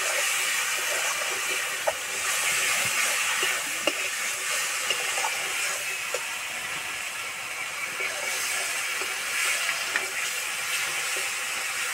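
Green peas hit hot, spiced oil in a pan for an egg curry, giving a steady, loud, close hiss and sizzle that continues throughout, dotted with small crackling pops.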